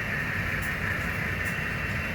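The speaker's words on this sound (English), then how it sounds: "Kind of put together a hodgepodge general freight train" An HO scale model freight train of covered hoppers, box cars, tank cars, coil cars and gondolas rolls steadily past with a continuous low rumble and a thin metallic whine, and no voices.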